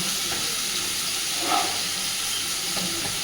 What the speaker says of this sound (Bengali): এবার দিচ্ছি জিরে গুঁড়ো।